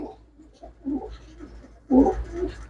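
Large pigeons cooing up close in a coop, a few soft, low throaty calls spread across the moment, the last one louder and fuller, with a faint background hum.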